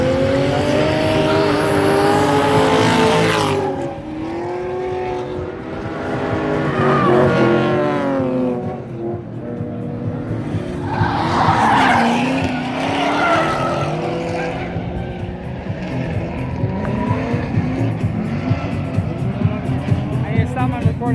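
Cars drifting at the No Start Bash drift event at Kill Kare, June 2019, with tires squealing and engines revving loudly and continuously, a gray BMW among them, while spectators talk nearby.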